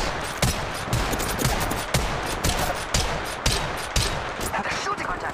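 A steady stream of gunfire in Apex Legends Mobile, with close, evenly spaced shots cracking roughly every half second over a dense, noisy firefight backdrop.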